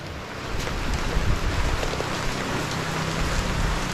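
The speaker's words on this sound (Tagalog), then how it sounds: "Umuulan." Steady rain pouring on a farm during a second harvest, a dense continuous hiss of drops on surfaces with low rumbling underneath, loud and unbroken throughout.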